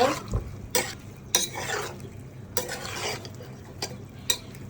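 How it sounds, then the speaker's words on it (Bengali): Mixed vegetables and green peas stirred and fried in a pan, repeated bursts of spatula scraping and clatter over a low steady sizzle. "সবজিগুলি নেড়ে চেড়ে একটু কষিয়ে নিব"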